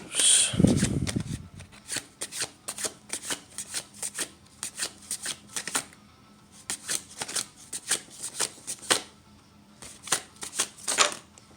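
Tarot cards from a Beauty of Horror deck are shuffled up close in repeated quick riffling bursts, with short pauses between runs and no talking.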